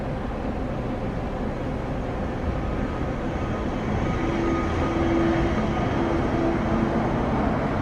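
Low, steady rumble of a large Brisbane Metro bus drawing near, with a faint tonal hum and whine rising toward the end; no voices.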